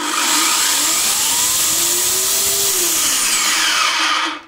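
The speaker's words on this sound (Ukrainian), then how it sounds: "Глянемо, як працює пила і перейдемо до справжніх випробувань." A GTM electric chainsaw runs loud and steady for about four seconds, its motor whine holding a constant pitch that rises slightly mid-run before settling, then cutting off at the end, with no voices.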